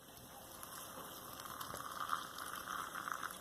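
Instant curry noodles in a pot of boiling water give a steady close bubbling and soft crackle that swells slightly toward the end, with no speech.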